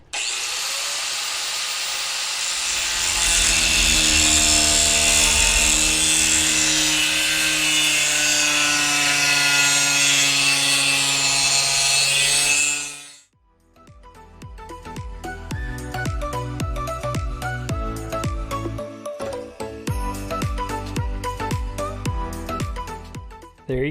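A 4.5-inch angle grinder with a cut-off disc cuts metal handles, screaming loudly and continuously for several seconds before spinning down, followed by a run of sharp metallic clanks and knocks.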